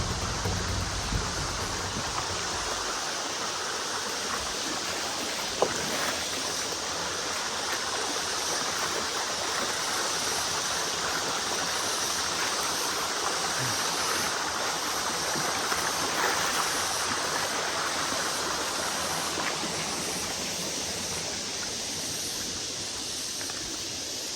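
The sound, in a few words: river stream flowing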